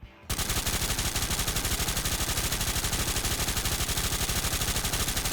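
Automatic gun in the virtual reality game H3VR firing a long continuous burst of rapid, evenly spaced shots after a brief silence, loud and close.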